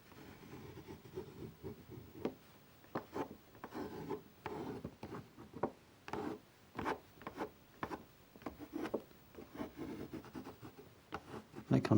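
A card scrapes watercolour paint off textured paper in repeated short rasping strokes, close and fairly quiet, with irregular gaps between passes and a faint voice murmuring beneath.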